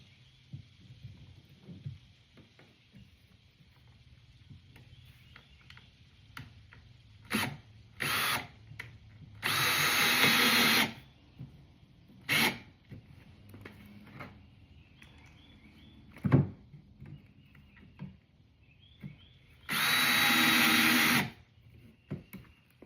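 A power drill bores holes for a garden fence outdoors, with two long loud bursts of whirring and several short trigger blips in between, separated by quiet pauses.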